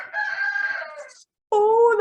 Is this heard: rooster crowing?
yes